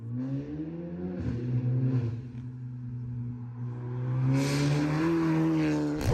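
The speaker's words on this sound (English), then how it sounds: "When you slap on an exhaust system, this is what it sounds like." A Volkswagen Scirocco engine with an aftermarket exhaust idles with a deep throaty note, then revs up loudly a couple of times before settling back, close by with no talking.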